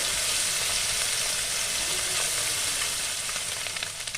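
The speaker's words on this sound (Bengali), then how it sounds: "তাই আমি এবার মাছগুলো ভালো করে ভেজে নেব" Small kachki fish fry in hot oil, making a continuous, close sizzle and crackle that stays even throughout, with no voices.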